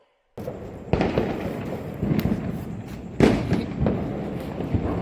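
Diwali firecrackers going off in a dense, continuous crackling barrage, with louder bursts punching through every second or so, close and loud.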